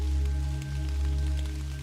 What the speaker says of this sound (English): He could still hear the rain lashing the front steps through the crack in the tall door